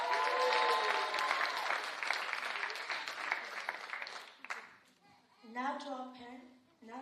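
Audience applause during a Sunday children's ministry service at church, a broad crowd clapping for several seconds under a wash of cheering voices, then fading out while a child's and adult's voices carry on.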